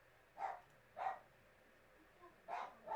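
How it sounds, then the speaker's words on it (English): Four short, faint barks from dogs, spaced irregularly and sounding distant against a quiet background. "dogs, very noisy ones"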